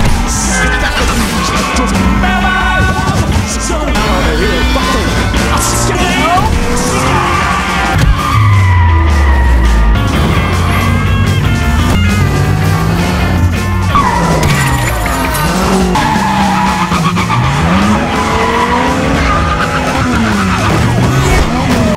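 Car tyres squeal and skid repeatedly as a car speeds away in a police chase from the 2017 film Baby Driver, loud and continuous, mixed with engine roar and film music.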